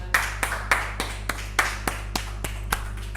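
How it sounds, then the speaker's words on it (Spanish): Sparse handclaps in a church congregation, about a dozen separate claps in an irregular rhythm over a steady low hum, fairly close and with no voices. "Dale un aplauso aquí."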